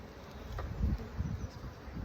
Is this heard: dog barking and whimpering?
no